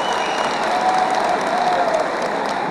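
Dense, steady audience applause from a large crowd at a political march event, continuous and fairly loud throughout with no breaks.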